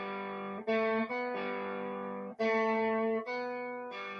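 Effects-laden electric guitar plays the opening four bars of a song, sustained distorted chords changing every half second or so, loud and close with no talking.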